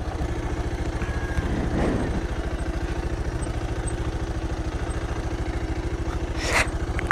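A Royal Enfield Bullet motorcycle idles nearby with a steady, loud thumping beat that continues unbroken for several seconds.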